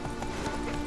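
The Witcher 3's horse Roach gallops in a brief, dense run of hoofbeats over a steady game ambience, loud and close, without talking.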